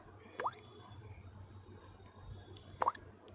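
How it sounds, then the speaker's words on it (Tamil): Two single drops fall from a bathroom tap a couple of seconds apart, each a short, crisp plink over a quiet room with a low background hum. "குளியலறை தண்ணீர் குழாயிலிருந்து துளிகள் விழும்"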